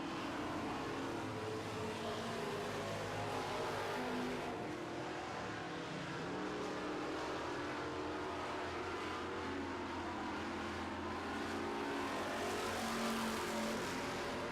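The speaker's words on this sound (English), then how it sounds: "bit on the number 5 of Glenn Manning, but is running out of laps here in Heat 1 of the Super Truck Division" Super trucks racing on an oval track in a heat race: a continuous, loud roar of several engines blending together from a distance, steady throughout with no break.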